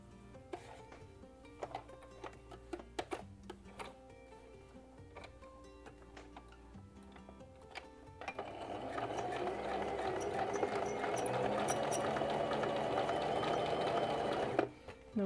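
A home sewing machine stitches a small triangle on a pocket, its steady mechanical whirr running continuously for several seconds after some quieter handling sounds and soft ticks at the start.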